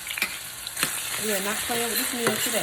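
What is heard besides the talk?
onion sauteing on the stove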